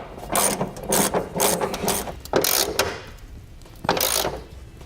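Socket ratchet tightening the larger bolts of truck running boards, steady clicking strokes in several loud bursts with short pauses between them, close and alone.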